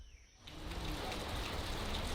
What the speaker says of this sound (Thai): และแล้วฝนก็มาต้อนรับผมอีกครั้ง